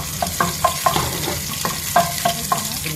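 Garlic drops into a hot frying pan with potatoes, sizzling steadily while a utensil stirs in repeated short scraping strokes, close and fairly loud throughout.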